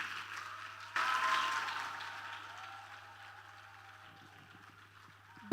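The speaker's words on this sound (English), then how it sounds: "Please clap, Enugu, clap." Audience applause in a hall at a trainers' summit in Enugu, a burst of clapping starting abruptly and sustained, slowly fading over several seconds, with a sharp sound at the very end.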